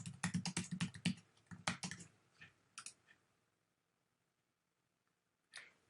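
Password typed on a computer keyboard: a quick burst of close key clicks, a pause, a few more taps, then one last click after silence.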